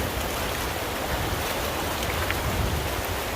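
A mountain creek rushes at a backpacking crossing near Pinto Lake and Cataract Pass, a dense, steady, close roar of flowing water with no voices.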